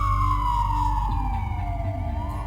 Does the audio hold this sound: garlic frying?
no